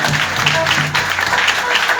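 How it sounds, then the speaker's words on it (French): Congregation applause at a church anniversary service on a mountain, a dense continuous patter of many hands clapping together, steady and fairly loud for about two seconds. "Applaudis pour mon Dieu."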